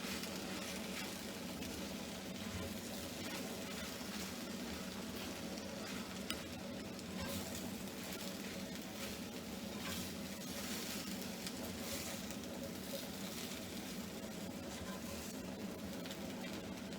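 Vegetables being stirred into a frittata pan, giving a continuous soft sizzle with faint stirring scrapes, quiet and close, with no speech over it.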